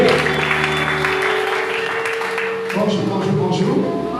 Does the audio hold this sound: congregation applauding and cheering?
yes